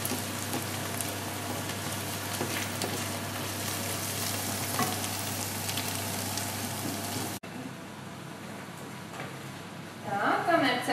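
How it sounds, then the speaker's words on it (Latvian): Steady frying sizzle of mushrooms fills the pan with a broad crackling hiss, then drops quieter after a cut, with stirring clatter and faint voices beneath. "kamēr cepās sēnes"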